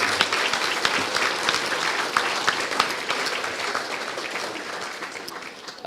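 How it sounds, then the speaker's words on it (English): An audience at a high school sports, cultural and senior prizegiving applauds steadily, a dense wash of many hands clapping at moderate volume for about six seconds, with no talk over it. "Could we please have a round of applause?"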